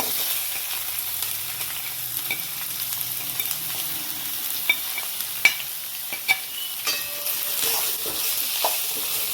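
Crushed onions frying in a pan with ginger and garlic, a steady close sizzle broken by scraping stirs and occasional sharp clinks of the spatula against the pan.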